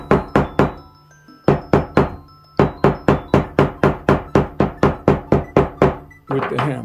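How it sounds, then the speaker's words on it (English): A hammer taps glued leather to set it, giving a steady series of sharp, close knocks in quick rhythm, with a short pause after the first few strikes, then a brief rustle at the end. "With the hammer. And it stays put."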